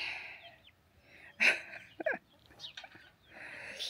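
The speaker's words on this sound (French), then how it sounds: "Et vous avez le coq qui suit." A rooster crows in a vegetable garden, a short, moderately distant call in a quiet outdoor setting with faint background hiss.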